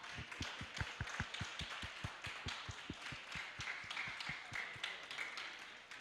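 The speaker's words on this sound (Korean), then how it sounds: "여러분 큰 박수 부탁드립니다." Audience applause at a commemorative ceremony marking the 450th anniversary of scholar Gobong Gi Dae-seung's death, heard as a steady run of claps over a busy hall for several seconds, with a faint tone ringing partway through.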